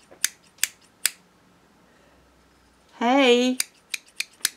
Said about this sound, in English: Ta-da! It's a pair of scissors!